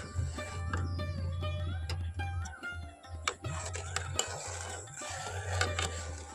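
A raw mango jelly mixture, made without gelatin, is stirred in a pan on the stove, giving steady scraping and clinking of a utensil against the pan over a low continuous hum, close and moderately loud.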